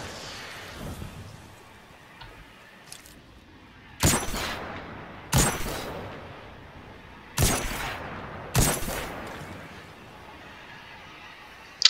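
Hand cannon fire in the Destiny 2 video game: four sharp, spaced single shots, each with a booming, echoing decay over quiet game ambience.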